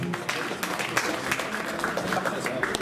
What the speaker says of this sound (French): s'il vous plaît, applaudissez-vous une dernière fois